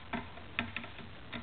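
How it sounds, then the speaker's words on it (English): Screws are worked loose from a 500W halogen shop light with a few small, dry metallic ticks and clicks at uneven intervals. The sounds are close and quiet, with no voices. "You remove the two screws"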